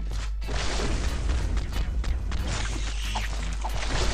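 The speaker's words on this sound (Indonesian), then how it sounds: "Gila, meledak dong" Explosion in the LifeAfter video game during flamethrower combat, a deep low boom sustained over a dense rumbling, crackling game mix, loud and continuous for several seconds without speech.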